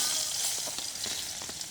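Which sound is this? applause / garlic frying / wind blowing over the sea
garlic frying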